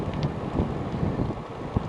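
Strong wind gusts against the microphone during a bike ride past fields along a road, a continuous low rumbling buffet with small thumps, with no talking.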